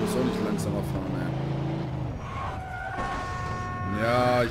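A car engine in Mafia 2 hums and shifts pitch as the vehicle drives, steady and mid-loud, with a person talking over it through much of the stretch.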